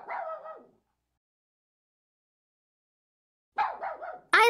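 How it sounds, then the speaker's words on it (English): A dog barks in short bursts: one yelping bark at the start, then after a long silence a rapid run of three or four yips and a final sharp bark, close and clear with no talk. "Look, it's a dog."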